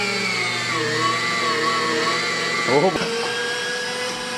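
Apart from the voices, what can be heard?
meat grinder grinding sausage meat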